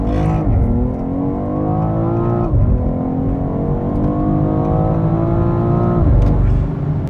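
A 2022 BMW X3M Competition with the S58 engine accelerates hard on a gravel road, its loud engine note climbing steadily and dropping briefly at each quick gear change before rising again.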